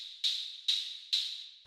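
Synthesized hi-hat layer for a raw techno track, sounding on the upbeats: three evenly spaced metallic hits with a tonal ring, each with a sharp attack and a slow decay, heard alone.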